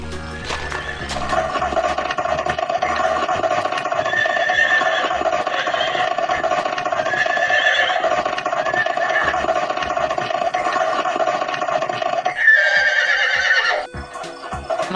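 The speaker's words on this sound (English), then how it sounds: "My horse Max is sick" A horse neighs and whinnies loudly and close, in repeated drawn-out calls over a steady engine-like drone and faint clip-clop, ending with a short pause before sound returns.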